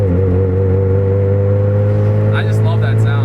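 A 2000 Honda Civic EX engine hums steadily while the car is driving, a constant low drone with a faint whine above it, close and continuous, with brief higher chirps near the end.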